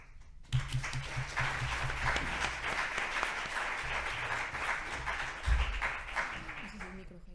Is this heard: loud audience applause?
yes